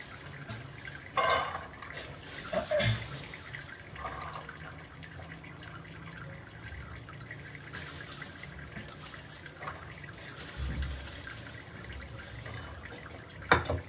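Corn being rinsed under a running kitchen tap, a steady low wash of flowing water with occasional louder splashes and clunks of handling, no voices.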